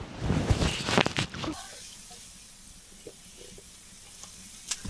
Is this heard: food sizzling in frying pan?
yes